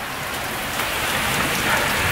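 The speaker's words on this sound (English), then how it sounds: "It's raining pretty hard" Heavy rain pours down steadily, a dense, continuous hiss of drops pattering on surfaces close by.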